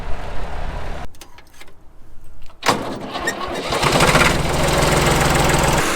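A stacker engine at a baling operation runs steadily, a loud continuous broadband drone that drops off briefly into a quieter, lighter mechanical rattle before surging back up and holding at a steady idle to the end.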